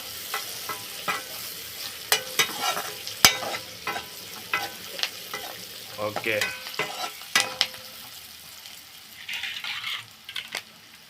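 Curry leaves crackle and sizzle in a buttermilk-rasam tempering while being stirred, with sharp irregular pops and scraping stirs close by, and a brief word spoken once.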